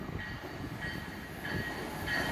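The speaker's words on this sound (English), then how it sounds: "now we're seeing train 6662 from Dover to New York Penn Station." An NJ Transit commuter train, Dover to New York Penn Station, passes Mountain Station in South Orange, New Jersey, as a steady, fairly quiet rumble of rolling cars with no voices.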